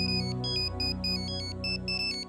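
A mobile phone ringtone plays alone, a bright repeating electronic melody in short regular bursts, fairly quiet.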